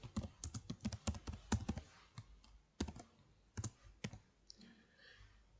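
Keys clatter on a computer keyboard while Python code is typed, with quick bursts of clicks, short pauses between words, and a few isolated keystrokes near the end, close and clear without any talking.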